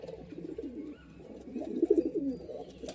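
Young pigeons in a small loft of birds for sale coo in low, repeated throaty murmurs, steady and close, rising to a fuller burst of cooing near the end.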